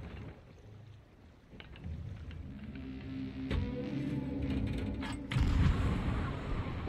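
Cannon fire from ships in a naval video game involving galleons sounds as deep, rolling booms that build into a heavy, rumbling low roar, with a stronger blast near the end.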